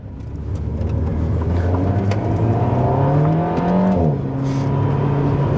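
Warm Alpine A110 R engine with manual gearbox, revving hard through rising gears with a gearshift dip near the end, loud and close from inside the car, then pulling again.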